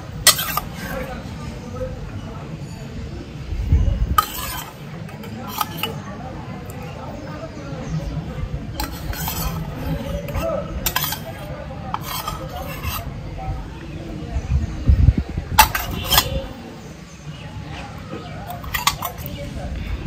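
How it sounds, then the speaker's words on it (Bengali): Sour yogurt being stirred in a bowl with rice flour for a homemade face scrub, giving soft scraping and rubbing strokes in irregular bursts, close by, with a voice talking at times. "এখানে হচ্ছে আমি এই যে টক দইটা মেশাবো ভালো করে।"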